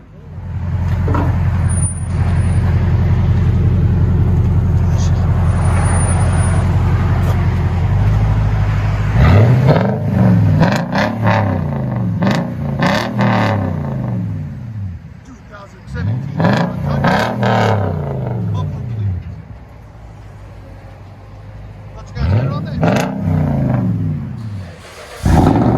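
A Toyota Tundra 5.7L V8 with straight pipes and a bumper delete revs loudly in several repeated bursts after a steady idle rumble. Each rev rises and falls, and people talk nearby.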